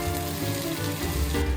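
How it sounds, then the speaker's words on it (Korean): Pork belly that has already been seared, potatoes and onions fry in a lightly oiled pot, a steady dense sizzle with faint stirring scrapes throughout. "냄비에 기름을 살짝 두르고 초벌한 삼겹살과 감자, 양파를 볶습니다."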